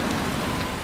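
Steady rain falls in a dense, even hiss, close and constant across the short stretch, with no voices or other sounds.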